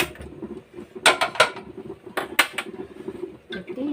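A gas stove in a home kitchen clicks and ratchets as its knob turns on, then metal cookware clanks and scrapes as a pan is set down, with bursts of close clatter and quieter gaps between.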